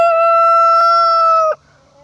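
A rooster among laying hens on a farm lets out one loud, sustained crow lasting about a second and a half, which breaks off abruptly into quiet.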